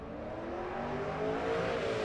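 A C5 Corvette and a Mercedes-Benz drag racing in the 13.0 class at Rocky Mountain Race Week, with a steady, loud engine roar and tonal whine that builds slightly over two seconds, with no voices.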